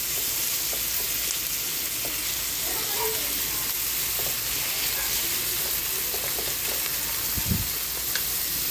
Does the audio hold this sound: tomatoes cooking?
yes